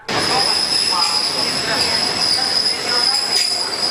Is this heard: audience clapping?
no